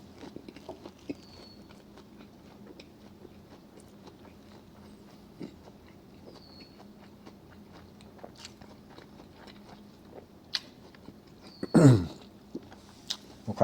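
Quiet chewing of a fresh Vietnamese spring roll dipped in peanut sauce, with soft crunches and mouth sounds and a louder bite near the end, close to the microphone.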